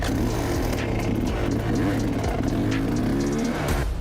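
An enduro motorcycle from a rental service in Vinnytsia runs with a steady, loud engine drone that rises and falls slightly in pitch as it revs, heard alone and close.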